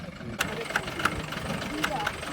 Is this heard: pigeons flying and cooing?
no